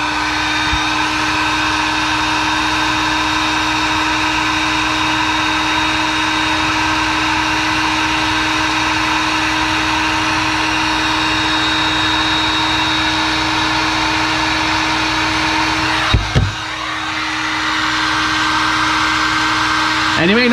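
A heat gun shrinking heat shrink connectors during an Amana refrigerator defrost termination switch repair gives a loud, steady blowing roar with a constant hum, briefly interrupted near the end before resuming.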